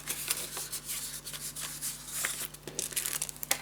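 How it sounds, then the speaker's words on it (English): Paper is being cut and handled for a scrapbook storage tower, giving soft crinkling, rustling and snipping sounds at close range with an irregular rhythm and no talking. "So I'm just going to cut off the mark."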